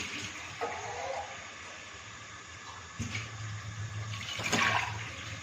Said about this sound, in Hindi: केतली रखती है, अब पानी डालते हैं इसमें